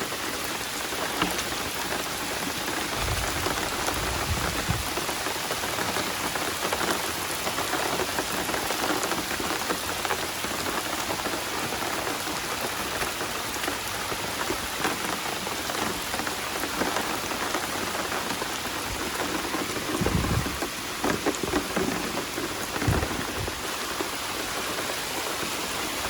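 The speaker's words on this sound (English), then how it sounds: "It's raining pretty hard." Heavy rain pours steadily onto a roof and overflows the gutters, a dense, loud, unbroken hiss lasting throughout, with a few low thuds here and there and no voices.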